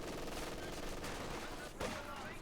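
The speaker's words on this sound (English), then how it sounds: "Canister shots they're firing, and Gregor gets blasted to bits there." Canister shots and dense battlefield gunfire rattle continuously in the Company of Heroes 2 strategy game, with bursts of explosive blasts forming a thick wall of combat noise.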